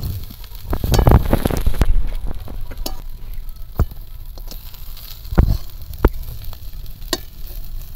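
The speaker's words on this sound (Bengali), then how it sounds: "এবার মশলার সঙ্গে ভালো করে ফ্রাই করে নিয়েছি।" Fish coated in spice paste fries loudly in a pan, a dense close sizzle broken by sharp clinks and scrapes of stirring, with no talking over it.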